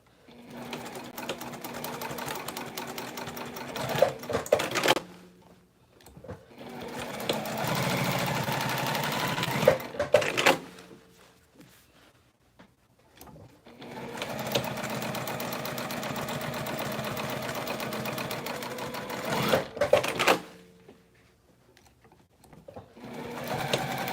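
Sewing machine quilting runs in long, steady whirring bursts of several seconds each, separated by short quiet pauses, close and fairly loud.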